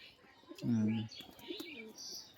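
A male pigeon gives a low, rolling coo up close, one prominent call followed by fainter softer coos, with chirps from other birds around and a voice speaking faintly in the background.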